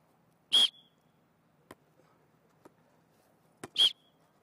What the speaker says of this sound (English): when I blow the whistle, we'll be able to serve.